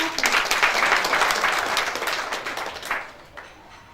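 An audience applauds staff being honoured at a crop protection company's end-of-year awards party, steady dense clapping that swells, then thins out and fades over a few seconds.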